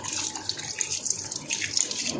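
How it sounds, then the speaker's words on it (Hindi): Tap water rinsing home gym weights on a terrace setup, a steady hissing splash that runs continuously with slight surges, fairly close and alone without talk. "पानी से कर लेते हैं इनको साफ।"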